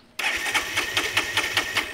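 A motorcycle engine with water in the petrol turns over, close and loud, in a quick rhythmic series of cranking pulses that never settle into a steady idle.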